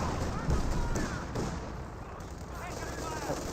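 Artillery strafing run in the strategy game Company of Heroes 2, a dense rumbling barrage of low booms and blasts filling the short stretch, with a voice talking over it.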